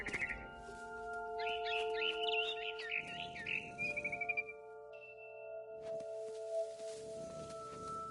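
Chirping and twittering from a barn swallow in a video game, a quick run of bright close calls over a steady droning hum, then quieter chirps later.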